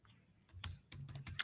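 Quick bursts of typing on a computer keyboard, several close, crisp key clicks in a short run with no talking.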